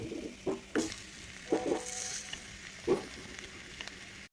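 Soft sizzling from a pot of masala frying for a squid roast, broken by a few short scraping stirs spaced a second or so apart.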